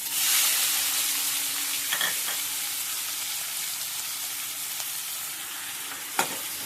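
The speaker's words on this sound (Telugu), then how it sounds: "సరే, ఇప్పుడు ఎర్రగడ్డలు వేస్తాము." Onions dropped into hot oil with cardamom sizzle and fry in a steady, fairly quiet hiss, with a couple of brief stirring clatters near the pan.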